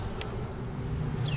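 A soft, steady buzz of many honeybees close by at a hive, fairly quiet, with a brief higher whine passing near the end.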